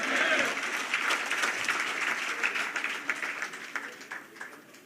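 Loud, enthusiastic applause from party workers welcoming the chief minister at a BJP state office event, dense clapping with crowd noise that holds strong and then gradually thins toward the end.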